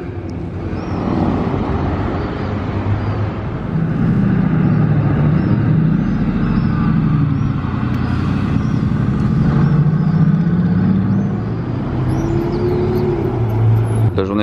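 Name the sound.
Ferrari 488 Pista Spider driving past in Monaco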